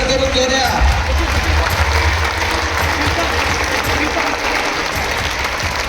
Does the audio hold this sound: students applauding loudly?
yes